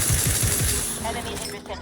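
Automatic gunfire in the video game The Outer Worlds 2, several rapid close shots in the first second, then a rumbling, busy game soundscape with a voice speaking underneath.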